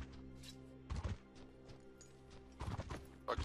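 Horse hooves clip-clop in the video game Mortal Online, three short clusters of close, thudding steps spaced about a second and a half apart over a low steady background hum.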